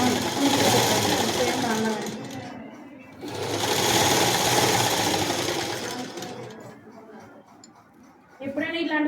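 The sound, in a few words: sewing machine stitching a body langa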